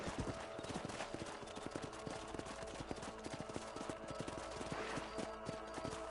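Steady rhythmic clip-clop of horse hooves trotting in the video game Red Dead Redemption, fairly close and continuous, with a faint voice low in the background.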